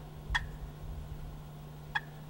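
Soft hen cluck made on a turkey call, imitating a hen waking up on the roost: two short, crisp clicks about a second and a half apart, close and quiet over a faint steady hum.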